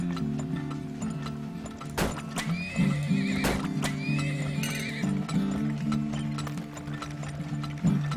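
Horses in the oil-drilling video game Turmoil trot along with rhythmic clip-clop hooves and a neigh, over steady game machinery, ratcheting and gear sounds and a looping musical tone, fairly loud throughout.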